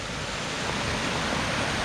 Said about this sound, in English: that's the waterfall. Or there's one. This is the baby one.